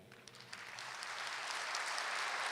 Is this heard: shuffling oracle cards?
no